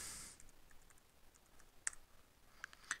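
A few quiet keystrokes on a Windows computer keyboard, scattered clicks spread over a few seconds against a faint background, with no talk.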